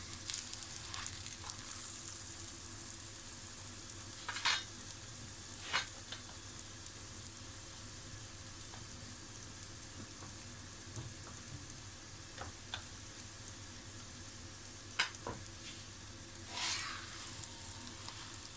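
Gobi paratha, a cauliflower-stuffed flatbread, sizzles steadily on a hot pan, with a constant low frying hiss and a few brief sharper pops and crackles scattered through, close by and moderately quiet, with no talking.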